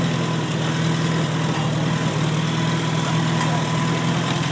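A 1964 Farmall 140 tractor engine runs steadily in first gear, a close, even low-pitched drone with a faint rhythmic chug throughout and no talking.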